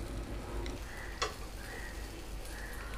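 Egg omelette batter spread thin in a pan with a little oil, frying with a steady low sizzle throughout and one brief click partway through, with no voices.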